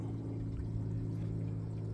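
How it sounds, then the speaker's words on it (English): Water drains back into the sump of a small aquaponics system, a soft continuous pouring and trickling over a low hum, faint and steady, with no voices. "the water drains back down into the sump, nice and clean"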